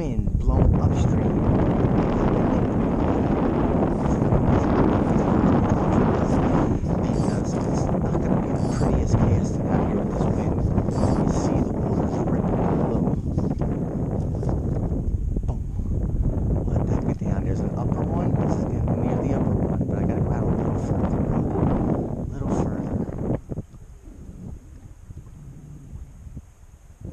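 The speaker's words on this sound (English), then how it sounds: "Wind blowing upstream." Wind blows upstream over a creek during spring fly fishing, a heavy, close rushing roar buffeting the microphone for most of the stretch before dropping away near the end.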